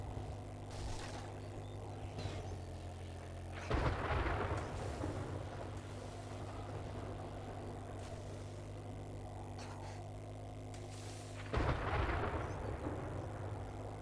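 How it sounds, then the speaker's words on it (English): Thunderstorm in 7 Days to Die with a steady rumbling drone and two loud thunder crashes rolling in a few seconds apart. "Man, is this whole place in a storm?"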